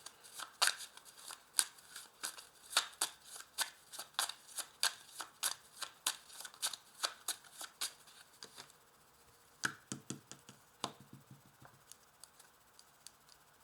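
A 32-card deck being shuffled and cut, a brisk series of crisp riffling snaps and slaps in an uneven rhythm, then a few scattered card taps and placements, close and fairly quiet, with no speech.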